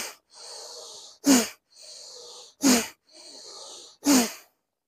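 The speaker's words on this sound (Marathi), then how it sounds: "लंबा श्वास घ्यायचा आणि बाहेर सोडायचा." Deep breaths during bhastrika pranayama yoga come close and clear: three cycles of a long, steady hissing inhale followed by a short, forceful exhale.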